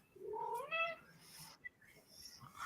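A blonde cat meows close by in one long, rising and falling call, followed by a short chirp and quieter trailing sounds over low background noise.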